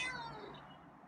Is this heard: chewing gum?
no